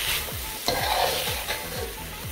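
Okra and tomatoes fry in a pan for bhindi curry, a steady sizzle broken by regular spatula strokes scraping through the mixture, close and clear.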